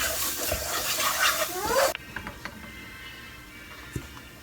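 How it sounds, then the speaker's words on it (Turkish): Lentils roasted with toasted flour in a pan are stirred with close scraping and grinding strokes for about two seconds, then the pan goes quiet apart from a few faint clicks. "Mercimekleri ekledim. Onu da birazcık kavuruyorum."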